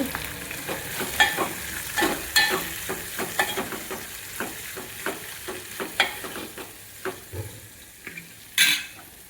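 Sambharo vegetables tempered in a pan of hot oil: a steady close sizzle punctuated by repeated scraping stirs and sharp clinks of a utensil against the pan, with a louder clatter near the end, and no talking.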